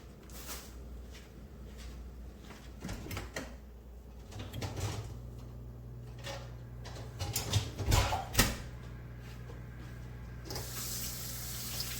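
A kitchen tap runs into a sink while hands are washed, a steady close splashing with bumps and clatter partway through and a brighter gush near the end.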